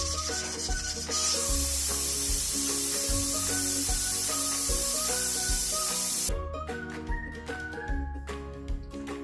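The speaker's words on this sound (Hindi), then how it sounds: "ये 5 मिनट के लिए मैं इसे प्रेशर लगा दूँगी।" A pressure cooker hisses loudly and steadily over a chicken and potato stew, a broad jet of steam for several seconds, then stops, leaving rhythmic rattling and clinking.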